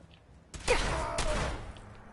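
Gunfire from the Fallout 4 video game: a burst of sharp shots starting partway in, clustered together and fairly loud, with a second crack about half a second later, then fading out.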